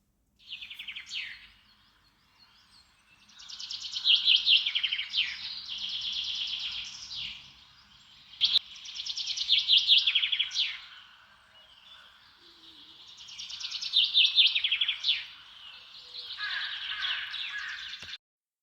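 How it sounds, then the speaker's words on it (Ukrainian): Birds sing in several bright, warbling phrases with short gaps between them, clear and fairly close against a quiet background. "Послухайте, як птахи радіють весні."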